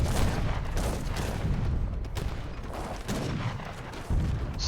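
Dense, continuous battle gunfire and booming volleys from a real-time strategy game match, loud and overlapping throughout with a couple of sharper bursts, no talk.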